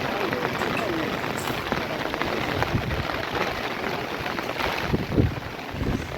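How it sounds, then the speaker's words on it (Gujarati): Heavy rain pours steadily in a dense, continuous hiss, with a low rumble underneath and no pauses, during a downpour in Nana Munjiyasar village. "ફૂલ વરસાદ પડ્યો"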